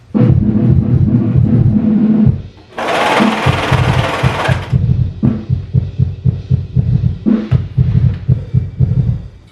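A sewing machine stitches pin tucks down the legs of leggings: a loud, close, steady mechanical whirr in sustained bursts. Partway through it briefly gives way to a burst of broadband hiss, then resumes in short, rapid runs.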